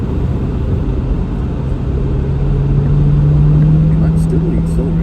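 An Acura RDX accelerates hard at full throttle on a winter road, its engine a steady, loud interior drone whose tone rises slowly and holds for the length of the clip.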